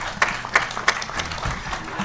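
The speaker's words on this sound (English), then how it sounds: "May we give a better round of applause to our chairman, the president-elect." A crowd applauds after a presidential victory speech, a short burst of clapping with a few sharper claps standing out, loud and close, with no speech over it.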